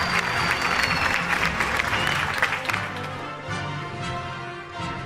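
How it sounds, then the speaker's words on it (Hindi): Audience applause fills an award show hall for the winning team on stage, a broad steady clatter of many hands with a voice or music running underneath, easing slightly toward the end. "भरपूर तालियां होनी चाहिए"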